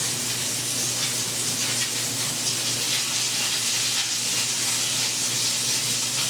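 Meatballs fry in a pan with a steady, loud sizzling hiss that stays even and continuous throughout, with no talking over it.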